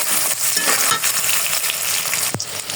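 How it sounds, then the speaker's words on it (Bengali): Soya chunks fry in hot oil in a pan, giving a dense, continuous sizzle with bursts of crackle and a brief stirring scrape near the end, close and without talk. "সয়াবিনগুলো ভেজে নেব।"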